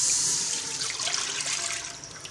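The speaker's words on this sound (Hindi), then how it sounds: "कढ़ाई को मैंने चूल्हे पर चढ़ा दिया। मैं डालूँगी इसमें दूध।" Milk pours into a wok on the stove in a steady, close liquid splash and trickle that lasts the whole moment, with no talk.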